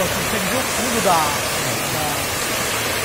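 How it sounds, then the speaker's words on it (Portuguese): A two-drop waterfall at Cachoeira do Funil in Embu Guaçu roars as a constant broadband rush, loud and close, with people talking briefly over it. "Já é uma cachoeira, a nossa primeira cachoeira."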